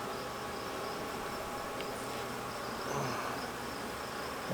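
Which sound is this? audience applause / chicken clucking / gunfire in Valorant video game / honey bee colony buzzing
honey bee colony buzzing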